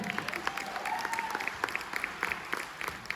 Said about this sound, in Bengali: সায়নীর গানের জন্য আরেকবার একটু হাততালি